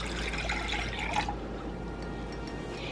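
Orange juice for a carne asada marinade is poured into a container in a short, splashing stream up close. The stream is heard for about a second, then fades to quiet trickles.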